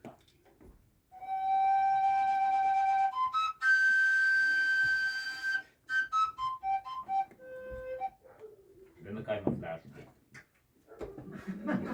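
A homemade whistle played by a Hutsul musician in Verkhovyna plays sustained shrill tones and short changing notes, followed by close-up voices talking.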